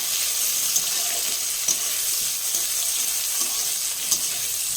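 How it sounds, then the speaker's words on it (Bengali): Onions sizzle and fry in hot oil in a kadai, a steady broadband hiss with occasional stirring clicks and scrapes, close and continuous with no voices. "কারণ কড়ার তেল গরম হয়ে গেছে। পেঁয়াজটা একটু লাল লাল করে ভেজে নেব।"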